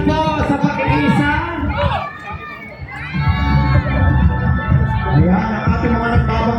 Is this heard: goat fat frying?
no